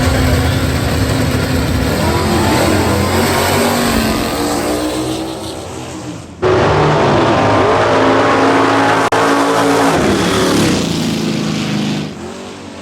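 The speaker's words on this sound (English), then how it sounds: "Ford versus Chevrolet. Who's going in first? The Ford." A Ford Mustang and a Chevrolet Chevelle launch in a drag race final at Lapeer International Dragway, engines roaring loud and continuous, cutting briefly before a second full-throttle blast rips through to the end.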